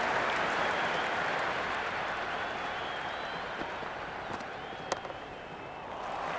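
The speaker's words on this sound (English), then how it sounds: "It's the most enthusiastic crowd you could ever see right now. There's a buzz, a real buzz coming from the stands." A stadium crowd roars in the stands during a KKR vs SRH match in the Cricket 26 video game: a dense, steady wall of cheering and applause that holds level throughout, with a few sharp claps poking through near the end.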